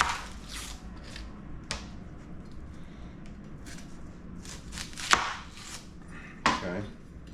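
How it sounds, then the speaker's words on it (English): A knife chops a yellow onion on a cutting board while homemade chicken noodle soup is being made, giving a few soft cuts and then two sharp, close knocks of the blade against the board. "I'll cut up my onion here."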